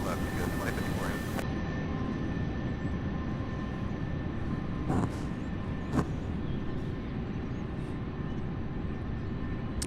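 A heavy cargo jet taxis at UPS Worldport in Louisville, its steady broadband engine rumble and whine continuous and moderately distant, with a couple of brief knocks and faint radio chatter mixed in.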